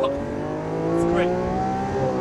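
A white Lamborghini Aventador supercar with all-wheel drive launches hard off the line, its engine a loud, sustained rising roar with steady harmonic revs close by for about two seconds.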